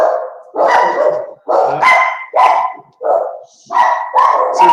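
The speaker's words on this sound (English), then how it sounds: "the front door open so you hear the dogs" Several dogs bark in repeated bursts through an open front door, a series of loud, close yaps and barks with short gaps between them, one dog whimpering faintly amid the barking.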